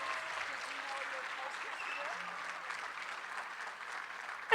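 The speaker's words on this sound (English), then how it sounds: "let's give one more big round of applause for our top 10" An audience applauds the top ten finalists of a neighborhood poster contest, a steady, moderately distant wash of clapping from a crowd that carries on evenly throughout.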